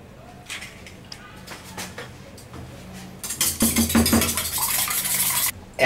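An egg is beaten in a bowl, starting with scattered light clinks and taps, then a loud, rapid burst of whisking clatter over the last couple of seconds, close to the microphone.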